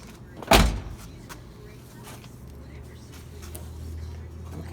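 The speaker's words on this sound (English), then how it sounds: "Make sure our door still closes good." A door on a 1974 Chevrolet C10 pickup slams shut once, a sharp loud thud near the start, followed by quiet shop ambience.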